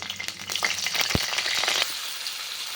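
Tomato and onion frying in oil in a pan for tondli sabzi, a bright continuous sizzle with stirring scrapes and one quick metallic knock, easing slightly toward the end.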